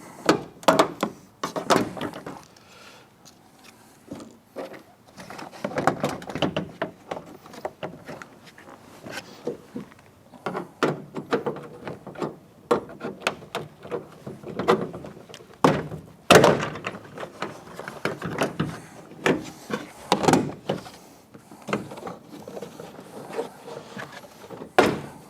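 Plastic retaining clips around the perimeter of a GM S10 Blazer door panel pop loose one after another, a series of close, sharp thunks and knocks in an irregular rhythm with quiet gaps between.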